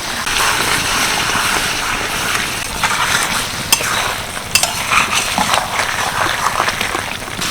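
Chicken masala for chicken kosha sizzles loudly and steadily in a pan while being stirred, with scraping utensil strokes and occasional sharp clinks over the continuous frying hiss, close up and without talk.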